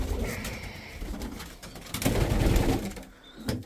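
Domestic pigeons cooing in a loft, soft throaty coos rolling over a muffled, busy background of rustling and movement, close and moderately loud.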